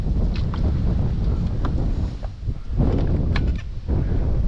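Gusty wind buffets the microphone in a continuous low roar, with light splashing and creaking sounds from a boat on the shallow Pechora River.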